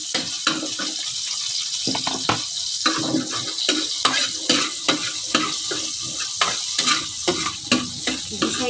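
Garlic sautéing in a pan, a bright sizzle broken by quick, repeated spatula scrapes and stirs in an irregular rhythm, fairly loud and close, with no voices.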